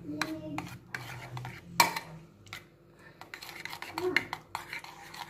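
A utensil stirs a yogurt mixture made with 2% cow's milk yogurt in a home kitchen, giving intermittent scraping and clinking strokes against the bowl, close and moderately quiet, with one sharper knock midway.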